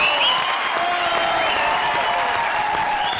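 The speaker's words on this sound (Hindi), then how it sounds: "जोरदार तालियां इंडियन आइडल 4 की विनर सौरभी के लिए" Applause and cheering from a studio audience on a comedy show, greeting singer Saurabhi, winner of Indian Idol 4; a dense, steady wash of clapping with shrill whistles and shouts running through the whole stretch.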